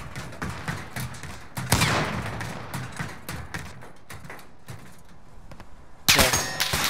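Gunfire in Call of Duty Modern Warfare comes as scattered shots and short bursts, some distant and some close, with a loud burst near the end and metallic clinks between.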